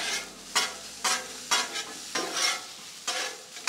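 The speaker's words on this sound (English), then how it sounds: "We'll add a little bit of this garlic paste to our onions." Garlic paste and onions sizzle on a Blackstone griddle as a spatula scrapes and turns them in regular strokes about every half second, close and clear, with no voices.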